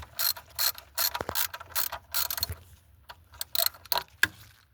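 A ratchet loosens the 10mm thermostat bolts on a 2003 GMC Sonoma, giving several close bursts of rapid metallic clicking separated by short pauses.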